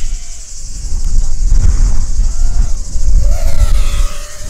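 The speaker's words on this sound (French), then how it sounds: "le vent il souffle à mort" Loud, constant wind buffeting a microphone with deep low rumble, over a steady high-pitched whine and faint engine-like drone from an FPV drone.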